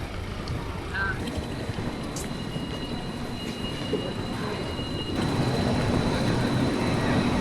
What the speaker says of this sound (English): There's a train to Hamburg leaving in a couple minutes.